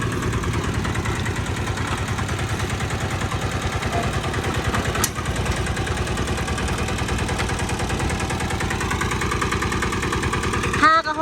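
A Kubota ZK8 diesel engine runs in gear with a steady, dense rhythmic chugging that holds loud and even throughout, with a brief clunk near the end.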